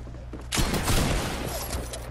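Gunfire in the Fortnite video game, a sudden loud burst of shots that rolls into a sustained, dense crackle of fire lasting over a second before easing off.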